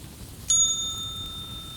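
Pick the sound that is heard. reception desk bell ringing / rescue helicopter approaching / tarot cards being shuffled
reception desk bell ringing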